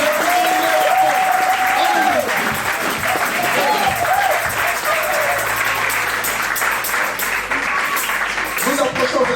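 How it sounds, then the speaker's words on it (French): A church congregation applauding during a French-language service, dense sustained clapping with crowd noise and voices calling out over it, loud and continuous, while a speaker talks and exclaims through the applause. "Applaudissons pour Jésus-Christ."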